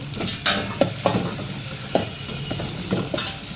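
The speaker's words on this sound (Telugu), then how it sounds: "చక్కగా వేగుతుంది." Onion frying in a pan with coriander and cumin powder, a steady close sizzle punctuated by several light clicks and taps of stirring, with no talking.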